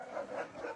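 A dog barks and yaps at a neighbouring dog next door, the sound moderately distant and muffled outdoors, in short overlapping bursts.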